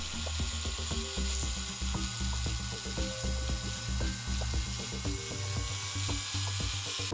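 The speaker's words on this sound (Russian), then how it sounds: "берем микросверло и досверливаем отверстие поглубже" A hand-held micro drill deepens screw holes in a 3D-printed part, making rapid, irregular clicking and ratcheting sounds with a faint whirring hum underneath, close and steady throughout.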